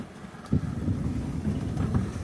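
Strong wind of about 20 knots blowing across a sailboat at sea in 1.5-metre waves, a steady low buffeting rush with gusty thumps against the microphone, continuous and close.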